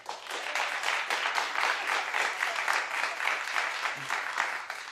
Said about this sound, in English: Wait, clap if you think Mike will win.